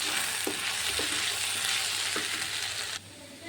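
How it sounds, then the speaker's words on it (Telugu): Spiced methi aloo fry of fenugreek leaves and potato with coriander powder, chilli and garam masala sizzles steadily in a pan, with a few soft scraping stirs breaking through the hiss until it drops away near the end. "ఇవన్నీ ఇప్పుడు మనం బాగా మిక్స్ చేసుకోవాలి."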